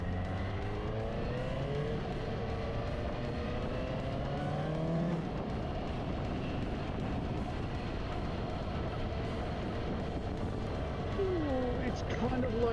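A 2023 Suzuki GSX-S750 motorcycle engine runs and revs steadily, its pitch sliding up and down through gear changes under constant road and wind noise, with a voice speaking over it.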